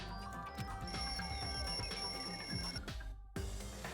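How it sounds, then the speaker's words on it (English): A wall clock alarm ringing in a lounge in the video game Danganronpa 2, a bright, sustained electronic ring over busy game background sound that cuts off abruptly near the end. "The lounge's wall clock alarm started ringing at 5:30."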